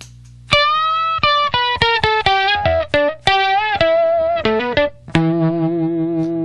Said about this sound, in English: With the first octave turned on the Jonny Octave, it sounds like this.